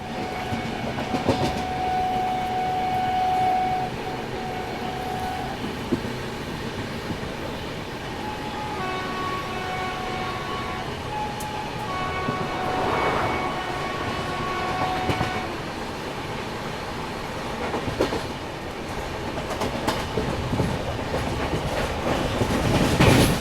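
The Lucknow–Raipur Garib Rath Express runs along in a steady, loud rumble with rhythmic rail clatter, heard from inside the train, with occasional horn tones sounding over the noise.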